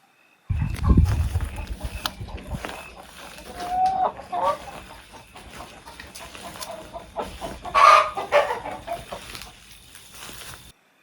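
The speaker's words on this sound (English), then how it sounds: "I have chickens in the coop right now making the bawk bawk noise." Several chickens cluck and murmur close by inside a coop, with scattered louder squawks over a steady background hum.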